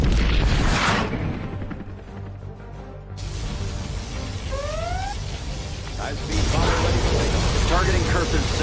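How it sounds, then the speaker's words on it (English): Particle cannon strike in C&C Generals Zero Hour, a heavy booming blast with dense rumbling crash over continuous battle noise, a brief descending beam tone, and game voice lines on top. "particle cannon activated"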